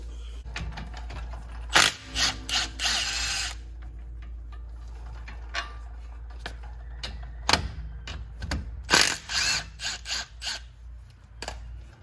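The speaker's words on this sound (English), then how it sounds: "we are going to be getting rid of these 17 millimeters on top and on bottom to take this caliper off" A ratchet works loose the 17 mm brake caliper bolts on a 2014 Ford Explorer Sport, giving bursts of quick clicking and metallic tool clanks against a low steady hum.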